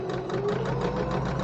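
A sewing machine runs steadily, stitching a quarter-inch seam on a summer tunic, its rapid even needle chatter close and continuous with a low motor hum and no talking.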